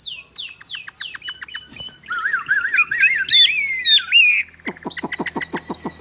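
Chinese hwamei songbird singing close by: quick repeated descending whistles, then a long warbling, looping phrase, and finally a fast series of sharp chirps, all clear and loud with no talking.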